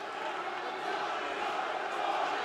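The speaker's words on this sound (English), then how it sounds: "listen to that crowd behind TOPALLAJ" A fight crowd roars steadily behind TOPALLAJ at an OKTAGON 71 bout, producing a dense, continuous wash of distant cheering and shouting with no breaks.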